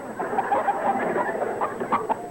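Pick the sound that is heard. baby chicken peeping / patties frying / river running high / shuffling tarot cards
baby chicken peeping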